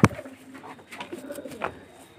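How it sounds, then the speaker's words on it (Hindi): A pigeon coos a few short, close, soft phrases after a sharp handling knock, with faint background rustle and no speech. "ये कबूतर जाल में कुछ नहीं कर रहा, ये कबूतर है"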